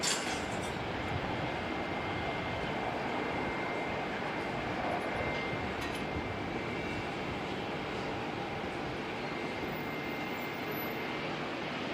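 An Air New Zealand aircraft at Auckland Airport produces a steady, broad engine roar that holds evenly throughout, moderately distant, with no voices.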